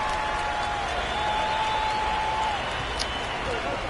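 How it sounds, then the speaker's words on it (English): Crowd noise from a basketball video game with NC State playing Michigan, a steady roaring wash of cheering under continuous commentary. "the Wolfpack crowd letting everybody know what they think of this run by NC State"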